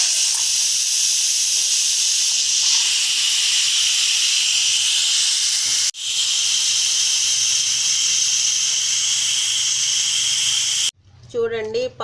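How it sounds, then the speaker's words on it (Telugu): Steam hisses loudly and steadily out of a pressure cooker lifted open after boiling dal for a tomato, amaranth and drumstick-leaf pappu, breaking off briefly midway and cutting out abruptly near the end. "ఆవిరంతా బయటకు వచ్చేస్తుంది."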